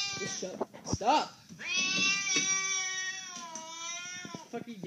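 A fat house cat lets out a run of loud, drawn-out meows close by, rising and wavering, the longest one stretching for a couple of seconds before trailing into shorter calls.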